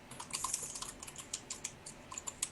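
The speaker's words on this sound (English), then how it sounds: "could whoever's typing mute while they're typing, please?" Computer keyboard typing during an online tabletop roleplaying game session, a quick irregular run of crisp key clicks heard alone with no talk.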